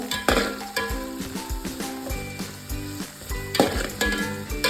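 Eight finely chopped green chillies sizzling in hot oil for Kerala-style fish mappas, a close crackling fry with occasional stirring clinks, set against steady tonal background sound.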